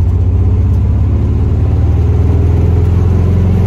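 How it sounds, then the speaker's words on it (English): A car engine runs loud and close at idle during a road test on a vehicle with vapor lock and charging trouble, a steady throbbing low rumble with a slight pulsing rhythm and no voices. "it doesn't stop me from revving it when I come to an idle"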